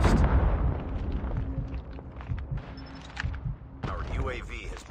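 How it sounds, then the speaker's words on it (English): A video game explosion as a UAV is destroyed, a loud opening blast that settles into rumbling bursts and scattered pops, a voice talking over it and a fresh burst of noise near the end. "Our UAV has been destroyed."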